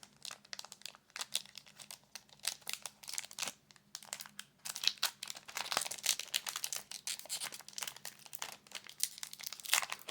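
A Magic: The Gathering Innistrad: Midnight Hunt booster pack being opened by hand, its foil wrapper crinkling and tearing in close, irregular bursts of crackle with brief pauses between them.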